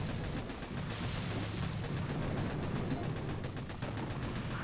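Shock launcher firing during a Boom Beach Warships battle in a video game, a dense continuous barrage of booming artillery-like blasts and crackling gunfire, loud and steady throughout.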